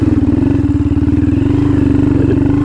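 A Honda Grom motorcycle engine with an aftermarket exhaust idles and revs with a rapid, choppy putter, close and loud, holding steady for a few seconds.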